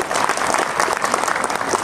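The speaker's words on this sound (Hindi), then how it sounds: "एक बार उनके लिए जोरदार तालियां होनी चाहिए" An audience bursts into loud applause for Ravi sir, a dense, unbroken clatter of many hands clapping at close range.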